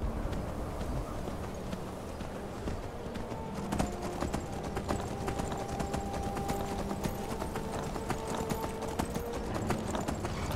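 A horse clip-clops in the Skyrim video game, a steady rapid run of hoofbeats over constant outdoor ambience and game sound, with no talk.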